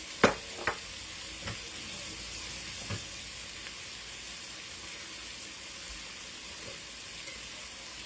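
Garlic is added to a pot of homemade chili that keeps up a soft, continuous sizzle. A few quick taps and clacks come near the start, then the frying hiss carries on alone.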